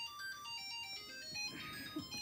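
A phone ringtone plays softly from somewhere in the room, a repeating electronic melody of bright tones across the whole moment, with faint background noise and no clear speech.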